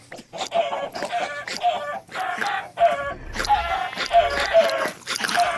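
Chickens clucking in the video game Minecraft, a steady run of short, repeated clucks and squawks overlapping one another at moderate loudness, with no talking.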